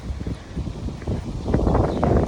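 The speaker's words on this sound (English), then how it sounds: "Man, it's windy out here." Steady wind gusts buffet the microphone, a low rumbling roar that rises slightly toward the end.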